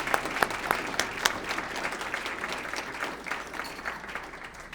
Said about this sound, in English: give a round of applause to everybody who's here graduating